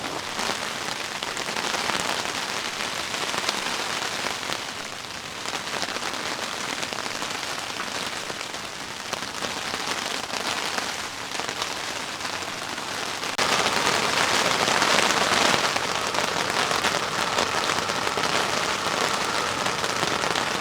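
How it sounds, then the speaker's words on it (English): Heavy, non-stop rain drums on a giant camping umbrella during an overnight storm, a dense steady hiss that swells louder partway through and stays loud, with no voices. "It's been non-stop heavy rain for"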